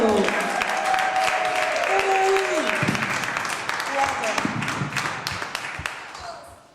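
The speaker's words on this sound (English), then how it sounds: "Why does the applause stop like that?" Comedy club crowd applauding as a comedian takes the stage, steady clapping with some whoops that thins and fades toward the end, with a voice briefly heard over it.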